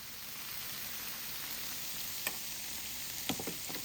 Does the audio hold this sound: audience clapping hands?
no